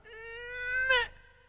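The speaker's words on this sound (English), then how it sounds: "Are you trying to meow?" An animal straining to meow lets out a single drawn-out, meow-like cry that rises slightly and then breaks off abruptly. It sounds close and clear, with nobody talking.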